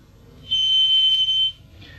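Microphone-to-loudspeaker acoustic feedback: a single piercing, steady high whistle that swells in, holds for about a second, then cuts off, alone over faint background hum.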